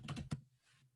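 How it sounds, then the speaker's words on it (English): Quick typing on a computer keyboard, three crisp keystrokes in rapid succession followed by a soft fainter tap, close and alone. "then we can type tutorial forward"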